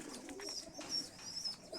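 Pigeons cooing inside a breeding loft, soft low coos close by and faint, repeated a few times without any talk.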